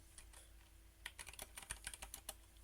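Quiet typing on a computer keyboard, a brief scatter of light clicks that quickens into a rapid run of close keystrokes, with no one speaking.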